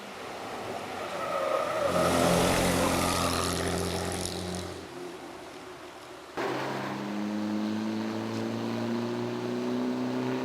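Rally cars climb through the Nainital forest, engines droning and rising in pitch as they pass nearby, swelling and fading, then a second car's engine revving steadily after a cut.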